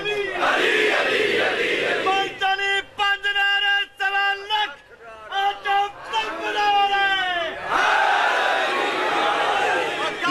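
A crowd at a religious jalsa in Dera Ghazi Khan chants rhythmic call-and-response slogans of "Ali," a leader's voice calling out and many voices answering in loud, sustained unison shouts.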